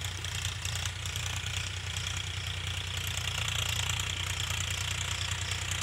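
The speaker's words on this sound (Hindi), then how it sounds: "देख सकते हैं मेरा भाई चला रहा है ट्रैक्टर।" Powertrac Euro 50 tractor engine running with a cultivator while ploughing a field after maize harvest, a steady low diesel chug with a rhythmic knock and rattle, close and continuous.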